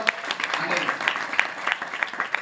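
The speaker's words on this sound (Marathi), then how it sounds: "त्यांचं पुन्हा एकदा टाळ्या वाजवून स्वागत करावं." An audience claps to welcome a guest at a gathering in a brief, close burst of applause, with a speaking voice mixed in.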